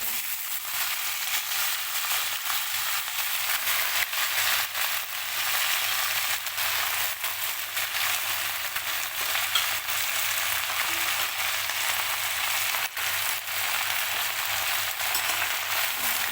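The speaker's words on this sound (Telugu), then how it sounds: "ఈ గోంగూర మొత్తం వేయాలి." Gongura leaves sizzle and fry steadily in a hot pan while being cooked down for pickle, a continuous close crackling hiss with occasional stirring clicks and no talk.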